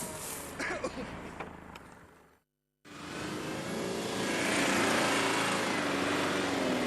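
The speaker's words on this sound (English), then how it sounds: "This shows a typical over-energetic method of driving on sand where too much power creates handling difficulties." A 4x4 vehicle drives hard on sand with too much power, its engine roaring loud and steady after a brief dropout, the drone climbing and holding near the listener.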